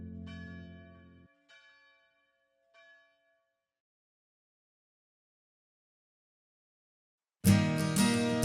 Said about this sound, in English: We all wait for the chapel bell's last clang.